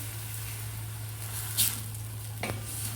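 Spinach paste frying with rice in a pan for a lunchbox dish, giving a steady close sizzle with a couple of brief stirring scrapes and clinks.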